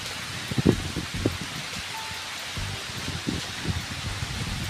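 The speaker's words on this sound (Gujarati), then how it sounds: "હારામાં હારો વરસાદ ચાલુ હે" Steady, dense rain hisses all around, with a few soft thuds and patters close by.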